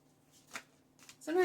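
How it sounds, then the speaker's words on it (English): Tarot cards riffle in a couple of brief soft shuffles at close range, followed by the onset of a voice speaking. "Sometimes it's hard for me to get in my zone of shuffling."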